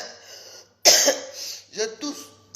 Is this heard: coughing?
yes